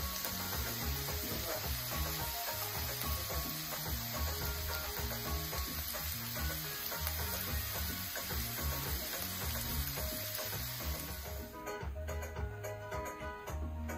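Cut vegetables for chow mein frying in olive oil in a preheated pan, a steady close sizzle with stirring and scraping throughout, no talk.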